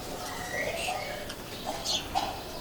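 Ferozpuri and Rampuri Banke pigeons give faint, soft coos and short chirps in a few scattered bursts against quiet background hiss.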